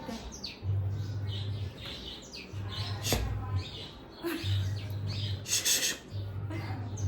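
Short bursts of sparrows chirping and tweeting in the background, with repeated low humming tones and some rustling noise throughout.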